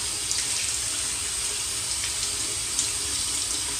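Steady running tap water rinsing out a shaving brush at a sink, a continuous close hiss of flowing water with no talk.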